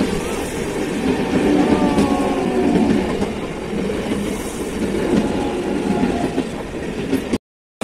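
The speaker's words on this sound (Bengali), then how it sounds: "ট্রেন আমাদের স্টেশনে ঢুকছে।" A commuter train rolls into an empty station with a steady loud rumble and rhythmic wheel clatter, faint squeals rising over it, before the sound cuts off abruptly at the end.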